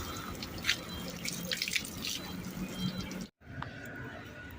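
Water pours and splashes steadily for washing, a continuous running gush with small drips, briefly cutting out near the end before resuming.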